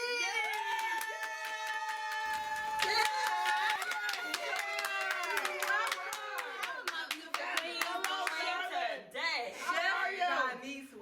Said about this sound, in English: So, we are going to give a big round of applause to our Chef Diney